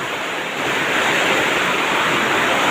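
Strong storm wind roars steadily near a mosque on a hill, forming a loud, unbroken wash of blustery noise with no voices.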